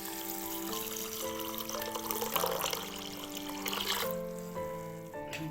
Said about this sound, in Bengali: এবার জল দিয়ে, এমনি নর্মাল জল দিয়ে ভালো করে 3-4 বার ধুয়ে নেব।